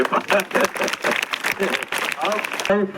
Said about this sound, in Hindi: ताली बजाई सब है।